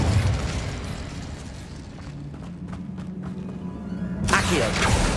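An Incendio fire spell in Hogwarts Legacy goes off with a loud burst of flame near the end, after a rumbling, muffled stretch of game ambience.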